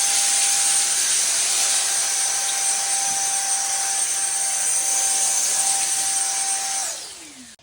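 A Ryobi handheld leaf blower runs at a steady high whine with a loud rushing airflow, then winds down abruptly near the end.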